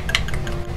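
A spoon scooping powdered koya-dofu onto a small plate, giving a quick light clink and scrape of metal on ceramic against a steady background hum.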